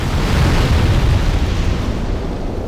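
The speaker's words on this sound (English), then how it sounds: "Just make sure to stay away because of the exploding crates or barrels." A barrel blowing up in Demon's Souls, heard as a sustained, loud, low rumbling blast that fills the whole clip with a deep roar and slowly trails off, with no voices over it.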